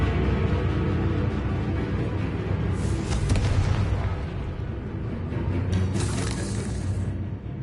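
Blasting spell explosions in the game Hogwarts Legacy, booming bursts over dense rumbling combat noise, with a couple of sharper crackling blasts standing out near the end.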